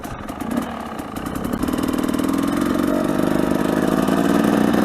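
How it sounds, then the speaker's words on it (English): A carbureted 2018 TE300 two-stroke dirt bike warming up, its engine idling steadily and loud up close, with the revs rising gradually into a fast, buzzing drone. "Just warming my bike up here."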